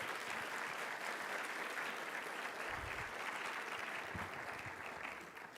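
Graduates' families, friends and staff clap together at a physician assistant program white coat ceremony, a dense, even wash of applause from a large audience that holds steady and tapers slightly at the end.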